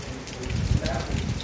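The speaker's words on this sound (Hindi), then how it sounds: "हवा के साथ बारिश आ रही है, और ठंडा बहुत हो रहा है।" Rain falling steadily with gusting wind on a cold, stormy day in the hills at Binsar, a dense, close hiss with rumbling wind buffets, fairly loud and unbroken.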